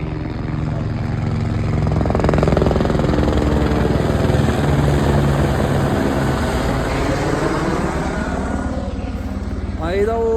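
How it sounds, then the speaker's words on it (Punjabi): A helicopter's engine and rotor drone loudly and steadily near a helipad on the Hemkund Sahib pilgrimage route, with a pulsing whine shifting in pitch while people talk over it. "ਇੱਥੇ ਹੈਲੀਪੈਡ ਹੈ ਆ ਹੈਲੀਕਾਪਟਰ ਆਈ ਜਾਂਦਾ"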